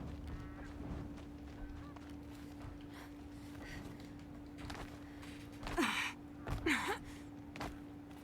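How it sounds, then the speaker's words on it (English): Geese in the video game Horizon Zero Dawn give a few honking calls over steady low game ambience with a constant hum, the clearest two honks arriving close together near the end. "Geese."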